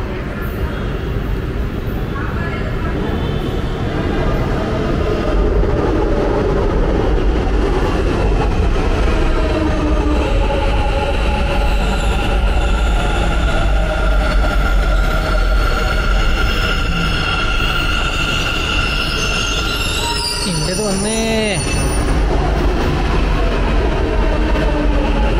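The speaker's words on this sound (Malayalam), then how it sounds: "ഒരു ട്രെയിൻ വരുന്നുണ്ട്." A train rumbles past close by in a steady, loud roar that fills the whole stretch, with a squeal near the end and voices talking over it.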